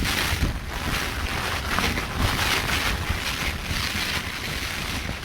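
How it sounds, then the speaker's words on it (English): Strong wind and rain batter a Lanshan tent in a constant roaring rush, with gusts swelling and buffeting the fabric close by and no voices. "The wind and the rain."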